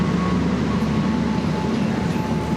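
Steady, loud rumble of a Mataram New Generation passenger train running on the Solo Balapan to Pasar Senen route, a continuous low drone with a faint tonal hum, heard from close by with no talk.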